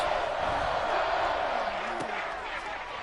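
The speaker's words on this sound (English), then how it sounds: "This crowd turning up the decibel level." Loud, dense stadium crowd roaring and cheering at an NFL-style football game between the Vikings and Lions, a steady wall of noise that swells and holds across the whole moment, with play-by-play commentary talking over it.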